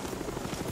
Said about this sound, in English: Friendly Cobra, inbound.